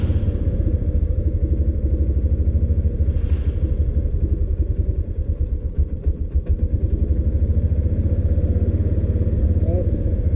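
A 2016 Kawasaki Mule 610 utility vehicle's engine idles too fast, a loud, close, continuous rapid rhythmic chugging with some mechanical clatter.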